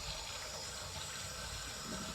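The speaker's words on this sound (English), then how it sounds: "Give her one last quick rinse" Water rinses a dug-up old bottle outdoors after it has been tumbled with copper, making a steady, continuous rush of running water that stays at an even level throughout.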